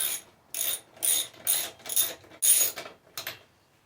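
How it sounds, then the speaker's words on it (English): A ratchet wrench with a spark plug socket on an extension loosens a lawn mower spark plug: seven quick bursts of close, crisp ratcheting clicks separated by short pauses, with no talk. "Now I've got your basic spark plug socket on an extended wrench."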